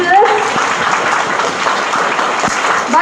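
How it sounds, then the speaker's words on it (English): A school assembly audience of pre-primary pupils and teachers breaks into a short burst of dense, steady applause, close and loud, with a voice speaking briefly at the start. "So I think, clap for your teachers."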